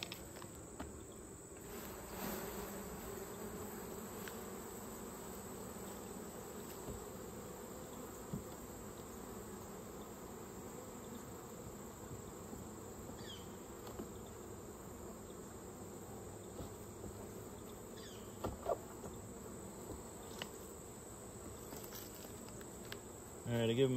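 Honeybees around an open hive that has just been smoked hum in a continuous, even drone for the whole stretch, with a few faint handling knocks and clicks near the end.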